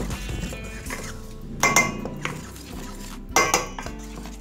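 Wonton dough ingredients being mixed in a bowl, heard as close scraping and clinking of a utensil against the bowl with a few sharper knocks.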